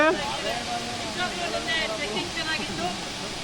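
Ermeyi Falls pouring steadily, a broad, constant rush of falling water with a slight gurgling texture, close and continuous throughout with no break.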